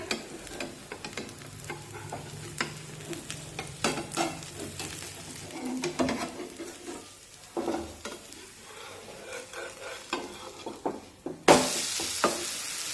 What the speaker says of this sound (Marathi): मध्यमाचेवर ऑमलेटची दुसरी सुद्धा व्यवस्थित भाजून घेऊया